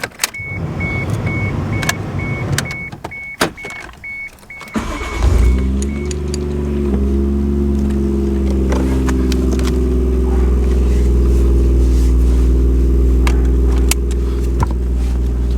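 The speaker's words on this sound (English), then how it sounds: "Alright, so we're gonna go for the first test drive." An MK3 Toyota Supra readied for a test drive after a speedometer cable replacement: a warning chime and interior clicks, then the engine starts and settles into a loud, steady close idle hum that carries on to the end.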